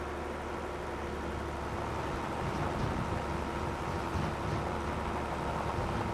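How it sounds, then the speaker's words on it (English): Steady rain in the Back Roads County driving video game: an even, dense hiss with a low rumble underneath, continuous for several seconds at a moderate level. "Got some rain coming up here, it looks like."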